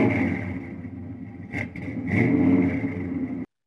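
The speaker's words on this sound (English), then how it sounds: "And there's nothing like the sound of that revving engine." A General Lee replica car's 383 V8 with Edelbrock chrome valve covers idles with a deep, steady burble, blips the throttle in two sharp revs, then cuts off abruptly.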